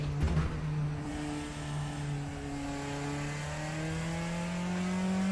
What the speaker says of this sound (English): I was just literally on the rev limiter